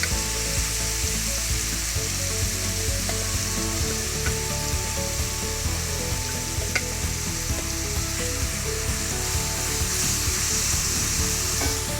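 Pureed mirepoix vegetables from a food processor fry in a hot pan for a braised pork shoulder, giving a steady, close sizzle and crackle with occasional stirring scrapes throughout and no talking.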